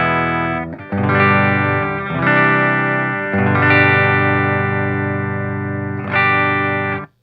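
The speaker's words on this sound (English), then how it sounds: "but this is just a basic clean tone." Electric guitar played with a clean tone through the high gain input of a JEP 50, a 50-watt master volume Marshall clone amplifier: loud, ringing strummed chords that sustain and are struck again several times, with no talking.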